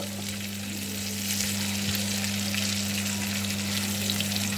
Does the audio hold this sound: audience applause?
no